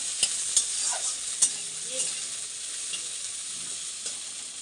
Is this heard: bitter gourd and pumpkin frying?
yes